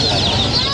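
A busy chorus of high peeping chicks and ducklings with duck-like calls, loud and close, overlapping continuously at the Lalukhet bird market in Karachi.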